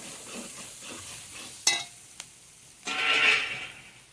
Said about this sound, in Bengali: লঙ্কা গুঁড়োটা দিয়ে ভালো করে মশলাটাকে কষিয়ে নিতে হবে